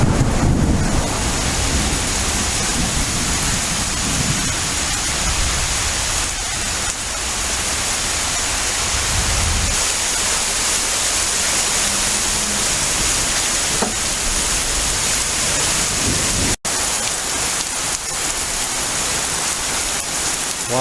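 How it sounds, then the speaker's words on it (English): Heavy hot afternoon rain shower during a thunderstorm pours steadily and loudly onto surfaces, a dense continuous hiss with low rumbling underneath and a sharp brief break near the end. "Got one of them nice hot afternoon showers."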